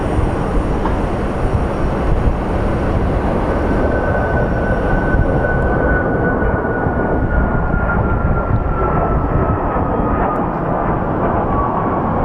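A Sun Country Airlines jet airliner at Phoenix Sky Harbor airport gives a loud, steady broadband engine roar with a faint high whine, filling the whole stretch without pause.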